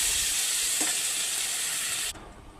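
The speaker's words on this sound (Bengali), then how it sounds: "অল্প পরিমাণ জল দিয়ে দেবো" A splash of water hits a sizzling pan of papaya curry with potato and soybean, giving a loud, even hiss and crackle that cuts off abruptly near the end, leaving a quieter bubbling; no one speaks.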